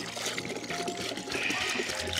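Water poured steadily into a mixture being prepared to treat chickens against parasites and lice on a Cebu farm, a continuous splashing trickle with some clatter, fairly close.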